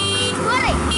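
A loud reverse horn on a Maxxi Bimo 102 combine harvester for rice blares in a single short warbling tone, close by, under voices.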